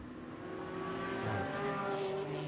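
A Porsche race car screams through a gear change during an eight-hour endurance race at Road Atlanta, its high engine note rising and falling, fairly distant and steady, with no voices over it.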